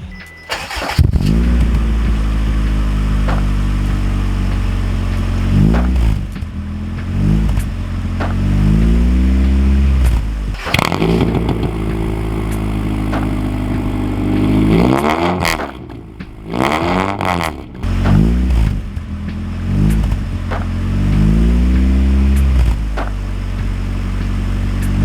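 Car fitted with a Vibrant Street Performance 2.5-inch muffler and V-band quick delete cranks and starts, then idles loudly with a deep exhaust drone, with several short starter-like bursts and pitch swells along the way.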